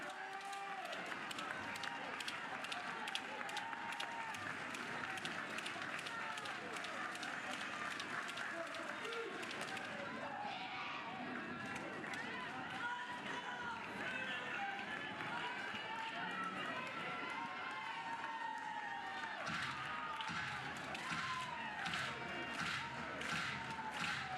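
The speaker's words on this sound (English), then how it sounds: "Good time in the crowd today. Another packed house, keeping it loud." Loud, packed crowd at a Texas Longhorns vs Oklahoma Sooners college softball game, with steady rhythmic clapping and cheering throughout and a commentator talking over the noise.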